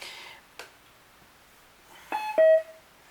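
A Bass Jaxx Layer wireless speaker powering on, a soft click followed by a short rising electronic chime and a sustained tone nearby, with no talking.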